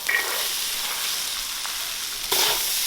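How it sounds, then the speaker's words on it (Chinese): Peas being stir-fried with chili bean paste, garlic, ginger and pickled chili in a wok give a steady close sizzle with faint stirring scrapes, swelling briefly louder near the end. "把豆瓣酱炒出颜色了，就可以把豌豆放进来了"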